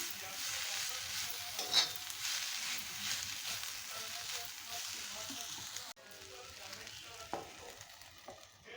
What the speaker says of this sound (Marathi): चार कोकम घालते आणि परतून घेते